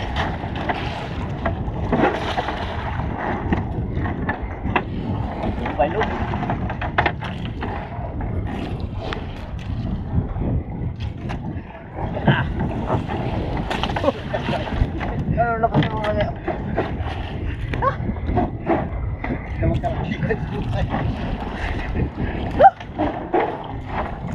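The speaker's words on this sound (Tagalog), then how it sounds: "Ang lakas bangka." A fishing boat motor rumbles continuously over wind buffeting the microphone, with splashing water and occasional voices talking nearby at sea.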